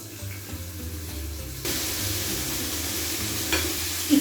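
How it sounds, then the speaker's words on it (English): Seasoned meat pieces dropped into hot olive oil in a pan, starting quiet and then bursting into a loud, steady close sizzle with a few brief pops and clatters. "Let's cook them in a little bit of hot olive oil"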